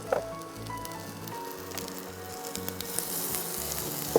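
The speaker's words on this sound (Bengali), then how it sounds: "আমি পেঁয়াজ কুচিটা দিয়ে দিচ্ছি।" Chopped onion hits hot oil in a pan for prawn pulao, giving a soft crackling sizzle with small pops and clinks, fairly quiet and close, with a low background hum.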